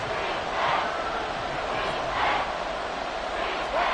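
Football stadium crowd roaring on a third-and-two play, a loud, sustained wash of cheering with swells rising and falling every second or so, no clear voices standing out.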